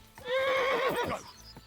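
A single loud horse whinny from the video game Kingdom Come: Deliverance II rises and trembles for about a second, with a few hoof clops underneath, then trails off.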